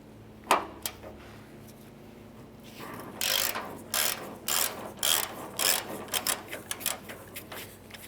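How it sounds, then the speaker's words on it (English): A ratchet driving a T40 Torx bit clicks in repeated bursts while backing out the bolt holding the tailgate cable end on a 2004-2012 Chevrolet Colorado, close and fairly loud with short pauses between strokes. "Using a T40 Torx bit, we want to go ahead and remove this bolt holding the cable end."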